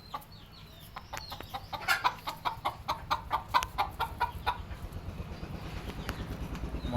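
On a small farm, three laying hens and a rooster cluck in a quick string of close calls that swells, then settles into a steady clucking chatter.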